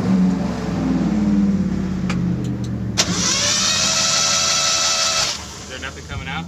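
A Mazda Miata with a misfire is cranked and started: after a few clicks the engine catches with a sharp onset and runs at a steady, loud idle with a high whine for a couple of seconds, then drops back, with talk around it.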